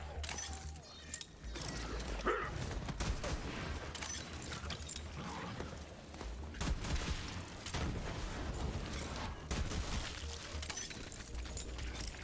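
Shotgun blasts in Borderlands 3, played as Fl4k, amid dense, continuous battle noise with repeated sharp booms and crackling impacts throughout, no talking.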